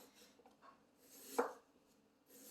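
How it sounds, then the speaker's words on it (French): A kitchen knife slices through a vegetable near its stem, giving one soft, short cut in a quiet room. "et je coupe, mais pas jusqu'à la fin"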